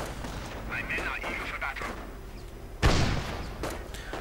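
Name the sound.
gunfire in a World War II strategy video game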